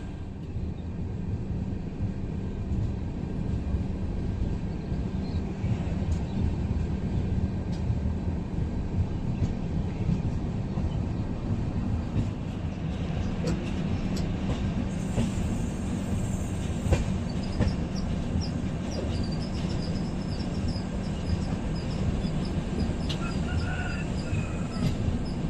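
The Narsapur local train rolls past in a long, continuous rumble and rattle of wagons, heard steadily throughout with faint squeaks and higher tones near the end.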